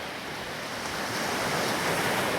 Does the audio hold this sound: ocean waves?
yes